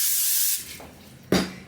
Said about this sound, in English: which I'm gonna spray with a little more olive oil spray.